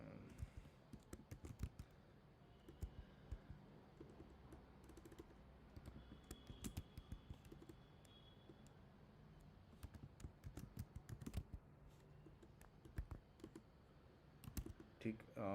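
Keys clatter on a computer keyboard in irregular bursts of quick taps with pauses between, close and fairly quiet.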